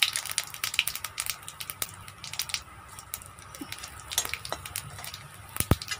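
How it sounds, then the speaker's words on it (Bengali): Cumin seeds in hot oil for a fish curry give a quiet, steady crackling sizzle with scattered sharp pops and small ticks, heard close and alone. "আমার তরকারিটা তেলের উপরেই জিরে দিয়ে দিলাম"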